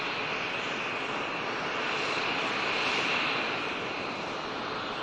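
An EasyJet airliner arrives from Amsterdam at Manchester Airport, its steady jet engine roar holding at a constant moderate level throughout with no talk over it.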